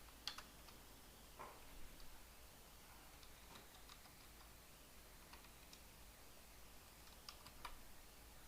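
Faint, sparse clicks of typing on a computer keyboard in a quiet room, scattered keystrokes in short bursts over a low steady hiss.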